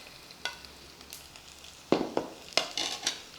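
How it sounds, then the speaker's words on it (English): Shredded onions and curry leaves being stirred in a hot pan, with soft steady sizzling broken by several sharp scraping stirs that land in short irregular bursts, close and fairly quiet. "All that is put together and nicely stir till we get this slightly stir fried."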